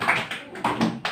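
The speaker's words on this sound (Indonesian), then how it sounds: "Tepuk tangan untuk kelompok 2." A classroom gives a short, thin round of applause for group 2. Only a few scattered hand claps are heard, soft and sparse, over quiet room tone.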